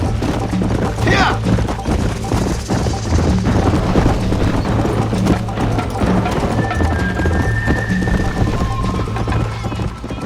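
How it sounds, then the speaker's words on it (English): A horse galloping in the Red Dead Redemption video game, with steady hoofbeats drumming under game music and effects and a brief whinny near the start, loud and continuous throughout. "I think you chose the wrong horse, Miss McFarland!"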